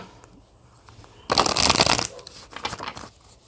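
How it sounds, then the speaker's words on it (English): A deck of cards is riffled and shuffled up close, a brisk burst of rapid flapping clicks that tapers into softer shuffling. "Let me get a good shuffle going."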